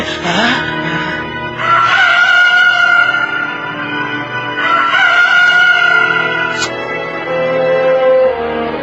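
A rooster sound effect in a Good Friday passion play crows loudly several times in long, drawn-out calls, echoing in a reverberant space with no talk over it.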